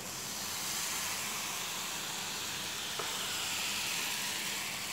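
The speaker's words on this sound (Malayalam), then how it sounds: "ഒരു തവി മാവ് ഒഴിക്കുക." A ladleful of palappam batter sizzles in a moderately hot pan, giving a steady hiss that holds at an even level from start to finish, close and alone with no talk.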